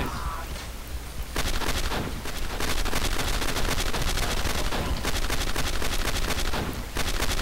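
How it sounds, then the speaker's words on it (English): Rapid automatic gunfire from combine soldiers in the Half-Life mod SMOD crackles in dense, continuous bursts, loud and close, with dozens of shots layered into a sustained firefight. "I hear gunfire. That doesn't make me happy."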